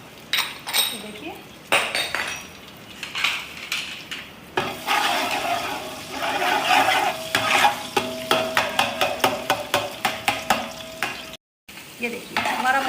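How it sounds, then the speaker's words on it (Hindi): Garlic and ginger frying in oil in a pan for chicken pulao sizzle up close under quick spatula stirring and scraping, with metallic clinks against the pan, steady strokes, a brief gap near the end and no voices. "ये देखिए हमारा मसाला जो है लहसुन अदरक भून रहा है।"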